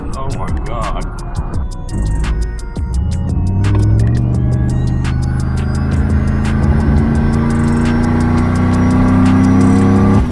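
Turbocharged Chevrolet Silverado pickup engine revving loudly and steadily close by, a deep throbbing drone rising in pitch as it accelerates, with excited voices talking over it.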